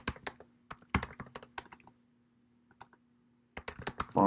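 Keys on a computer keyboard tapped in quick close-up bursts, a flurry of crisp clicks, a pause of near silence, then another rapid run ending in a louder clatter, with no voices.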